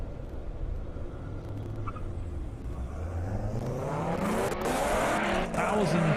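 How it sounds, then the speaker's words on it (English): Corvettes, including a ZR1, drag racing down an airport airstrip on a half-mile course, engine roar building and rising in pitch as the cars accelerate away, with crowd and announcer noise faintly underneath. "Got a couple more Corvettes coming up."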